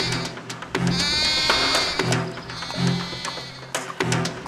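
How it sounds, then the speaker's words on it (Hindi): A goat bleats repeatedly, several wavering cries at close range with short pauses between them. "अरे इतनी रात गए ये आवाज कहां से आ रही है? लगता है कोई बकरी फंस गई है"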